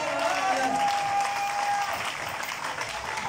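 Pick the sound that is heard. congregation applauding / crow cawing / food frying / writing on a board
congregation applauding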